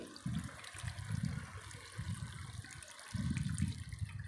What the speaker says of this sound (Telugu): ఇప్పుడు మనము చింతపండు నానబెట్టి పెట్టిన చింతపండు పులుసు అందులో పోసేయాలి.